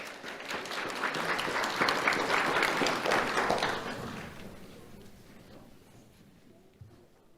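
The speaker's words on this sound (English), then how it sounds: "Let's have a round of applause for Annabelle." Audience applause at a community awards ceremony, a dense burst of clapping that holds strong for a few seconds and then thins and fades away.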